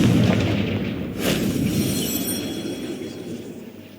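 A Confringo blasting spell explodes in the video game Hogwarts Legacy, a loud booming burst that swells with a rumbling crackle and then rolls away into a long fading roar.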